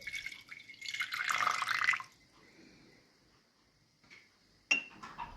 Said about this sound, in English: 170 milliliters of water. Pour water into a large bowl.